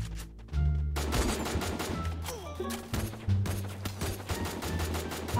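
Gunfire in the Garena Free Fire video game, bursts of rapid shots and sharp cracks over a loud, busy game soundscape with music and effects.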